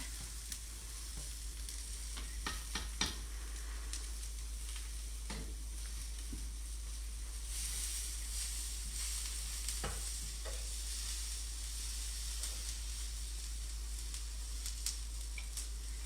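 Lentils simmering and being stirred in a pan for home-cooked tacos, giving a steady low sizzle with scattered scraping clicks of the spoon, close and moderately quiet throughout, with no talking.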